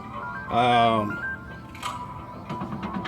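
An incoming call rings on a phone lying nearby, a brief melodic ringtone of stacked tones heard once, loud and clear, followed by faint room noise and light speech-like sounds.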